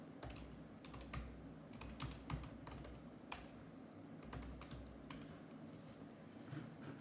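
Keys clattering on a computer keyboard while a command is entered for a Salesforce CLI setup on a Mac, steady irregular close taps running throughout at a quiet level with no talk.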